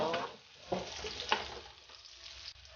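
Onions frying in a pan for a sardine pasta, a steady soft sizzle with a few stirring scrapes, close and moderately quiet, no talking.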